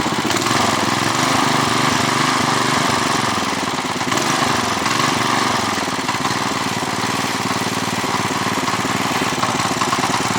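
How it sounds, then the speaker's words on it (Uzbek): A small motor engine runs steadily and loudly without pause, its droning chug and rattle continuous throughout, with a slight shift in pitch partway through. "Motorchani cho'tga ishlashga o'tdi mana."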